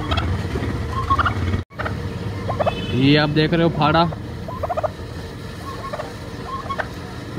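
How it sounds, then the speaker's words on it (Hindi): Caged turkeys at a house gobble in a loud rapid burst of rattling calls, with a few softer gobbles after it. Someone talks briefly over the birds. "दोस्तों, ये टर्की देख रहे हैं अब, ये टर्की है।"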